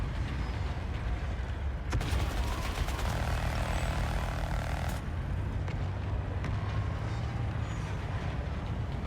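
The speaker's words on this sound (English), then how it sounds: "Enemy gunship in the area." An enemy gunship aircraft from PlanetSide 2 flies overhead, its steady engine drone loud and continuous across the whole stretch, with a sharper burst partway through and no talk.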